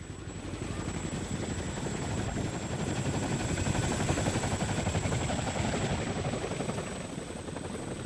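A helicopter hovers at a distance, its rotor chopping steadily and evenly, moderately faint with no voices.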